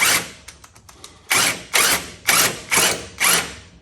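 An impact wrench tightens battery box bolts on a Mack CL713 truck frame, a few short light taps followed by five loud, evenly spaced hammering bursts up close.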